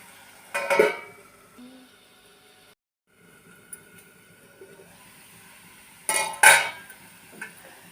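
Onion curry stirred in a metal pot, a brief scrape and clatter of a spoon, then quiet, followed by the clanking of a lid set on top, close and sharp against soft background hiss.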